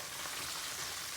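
Food fries in a pan during a home Palm Sunday dinner, a steady, moderately loud hiss and crackle with no talking.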